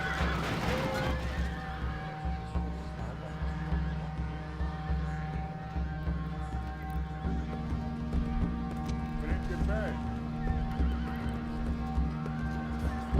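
Horses whinny and snort amid hoof clip-clop and battle rumble in the Europa Barbarorum strategy game, a sharp neigh near the start and more calls later over a steady low hum and distant clashing.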